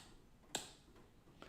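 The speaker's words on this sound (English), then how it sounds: "Let's see if I clap" One sharp hand clap for an audio sync test snaps out once in a quiet room, followed by a fainter click a moment later.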